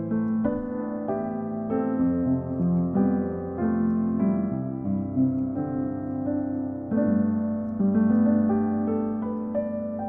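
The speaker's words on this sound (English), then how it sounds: "It's this lovely, warm, soft, dreamy felt piano that everybody loves." Soft, warm felt piano from a Spitfire Audio Originals sample library plays a gentle, dreamy melody with sustained chords, close and steady in loudness throughout with no voices.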